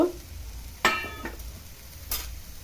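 Broccoli hits a frying pan with potatoes and sugar, bringing a soft sizzle and a few sharp stirring scrapes against the pan.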